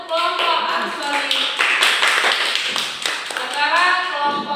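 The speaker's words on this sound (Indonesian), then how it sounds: "Beri tepuk tangan untuk kelompok arus balik." A classroom of students claps for a presenting student group, with steady, moderately loud patter of hands mixed with voices talking over it throughout.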